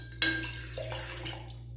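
Water, about 100 ml, poured into a small pot while making liquid soap, a close splash followed by a thin, steady trickle and faint clinking of the container.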